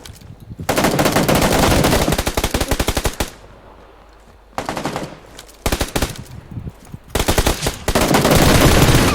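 Automatic weapon fire in the shooter game PUBG Lite, loud sustained bursts of rapid shots with short pauses between volleys, close and dominant.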